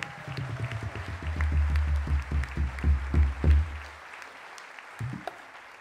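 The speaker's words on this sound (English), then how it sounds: "Can you just keep applauding for the amazing sound team here" Applause swells from a crowd at a folk festival, steady clapping that fades out around the middle, leaving only a few scattered claps.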